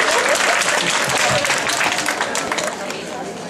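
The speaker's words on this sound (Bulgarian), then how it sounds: "Аплодисменти!" Loud, close applause breaks out from a crowd at a 2017 school graduation diploma ceremony, dense clapping mixed with murmuring voices that gradually tapers off.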